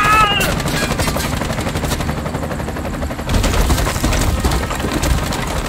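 Rapid automatic gunfire in the video game Bright Memory: Infinite rattles loudly and almost without pause, with dense bursts of shots overlapping into a continuous barrage.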